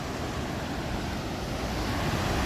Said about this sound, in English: I'm on the Illinois side, and you can hear the water.